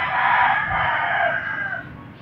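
A rooster crows loudly and close, one long drawn-out call that trails off toward the end, with nothing else heard.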